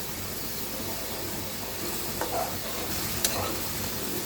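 Fish simmering in a pan after water is poured in, giving a steady close hiss and sizzle with a couple of faint scraping clinks, no voices.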